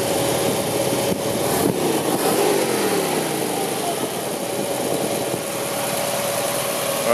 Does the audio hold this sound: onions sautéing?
no